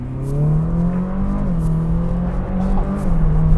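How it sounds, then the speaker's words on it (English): Ferrari 458 Speciale exhaust in race mode, a loud steady engine drone with slight rises in revs, close and continuous with no talk. "Give that exhaust a little bit more noise and be able to really enjoy this car."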